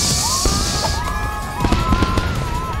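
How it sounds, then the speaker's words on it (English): Fireworks burst during a beachside surf competition in an animated show, with a fizzing launch hiss, rising whistles and a run of sharp crackling pops, loud and close. "Fireworks time."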